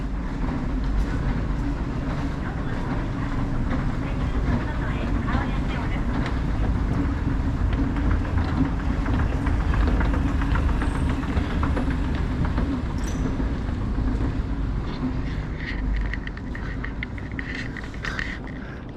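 A steady rolling rumble comes from a train leaving Hanyu Station for Tatebayashi at night, close by and sustained throughout, easing slightly near the end, with light rain falling.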